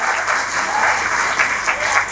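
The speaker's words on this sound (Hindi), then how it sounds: "जोरदार तालियों से इस्तकबाल कीजिए" Loud, continuous applause from an audience at an Urdu mushaira greets a poet, with crowd voices faint beneath the dense clapping.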